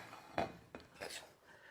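A plate picked up in a kitchen before serving sliced prosciutto crudo, giving a quiet ceramic clink followed by a light scrape and rubbing against a surface, close and brief.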